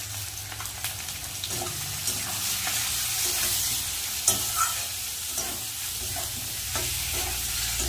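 Turmeric, chili and cumin powder sautéing in a pan give a soft, continuous sizzle, with irregular scrapes and taps of a spatula stirring the spices close by.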